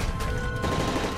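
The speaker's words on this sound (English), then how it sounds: "That's gunfire!" Sustained gunfire during a campaign mission of the video game Call of Duty Modern Warfare 3 aboard a breached aircraft, a dense steady clatter of shots amid loud background noise.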